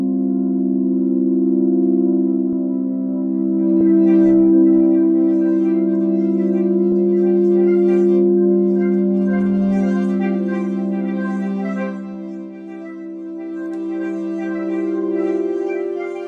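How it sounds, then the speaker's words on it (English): Vintage tape recordings of processed sine waves play as a steady, sustained low harmonic drone, with the tone shifting slightly as a synthesizer mod wheel is moved and a faint warbling texture above it. "these are just some vintage tape recordings that they're sine waves processed"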